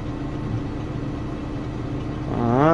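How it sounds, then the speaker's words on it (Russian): A Kirovets K-525 tractor pulling a new cultivator runs with a steady low diesel drone, then the engine strains and rises in pitch and loudness near the end, heard close and without talk. "Ага, трактор поднапрягся."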